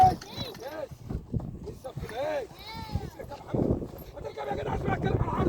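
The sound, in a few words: horse hooves clip-clop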